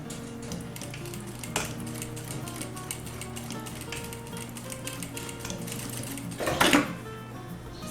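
A sewing machine stitching fabric for a skincare case runs with a steady fast mechanical whir and needle clatter, close and even, with a brief louder rattle near the end.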